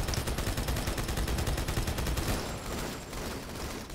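Turret gunfire in Halo 2, rapid sustained automatic bursts hammering steadily and close for a couple of seconds before tapering into quieter distant shots, with no talk.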